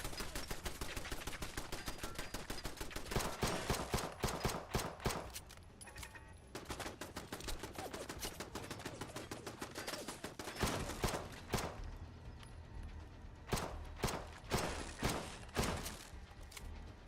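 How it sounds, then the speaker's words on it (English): Turrets fire in a video game, dense rapid bursts of gunfire rattling in long fast volleys with brief pauses between them, sharp and continuous throughout. "Hopefully I'm not gonna get shot at by those turrets"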